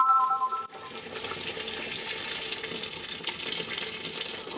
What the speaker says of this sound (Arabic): نحط بقى ميه سخنه